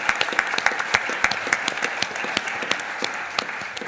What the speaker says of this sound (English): Can we all give Graham a round of applause?